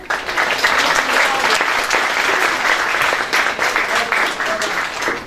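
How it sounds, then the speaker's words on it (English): A college induction audience breaks into loud, sustained applause for a guest speaker, dense steady clapping throughout with a faint voice or two underneath. "Come on, let's give a large round of applause for Humza."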